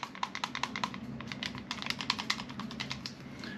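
A loose pistol slide rattles on a Rock Island Armory (RIA) frame, giving a quick series of sharp, close metallic clicks and taps in an irregular rhythm, with no talking.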